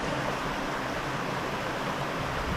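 Waterfall at Le Cazeret roars as a steady, dense rush of falling water, loud and unbroken throughout with no voices.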